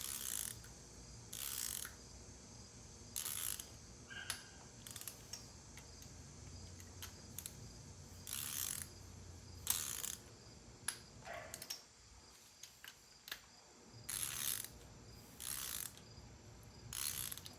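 A ratchet torque wrench works on bolts of an LS1 engine, giving short bursts of close, crisp clicking separated by pauses, with no talking.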